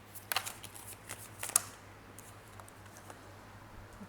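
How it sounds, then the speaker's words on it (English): Slippery tarot cards are shuffled by hand in two brief bursts of riffling patter, fairly faint and close, over a steady low hum with no talking. "these cards are really slippery. Or maybe I forgot how to shuffle."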